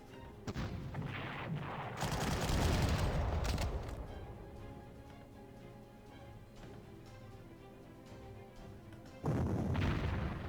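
Artillery fire in the Panzer Corps strategy game, Soviet winter war setting: a loud burst of booming shots and rumbling blasts, a quieter lull, then another heavy salvo near the end.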